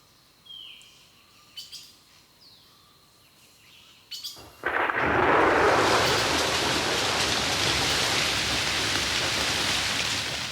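Rain in a tropical rainforest begins as a sudden dense, steady wash of falling drops on leaves, preceded by a few scattered bird calls and chirps in the quiet before the downpour.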